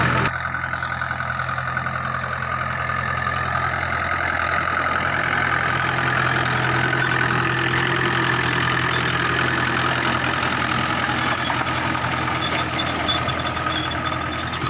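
A tractor fitted with a rotavator runs steadily on farmland, its engine droning at an even, constant level for the whole stretch with no voices.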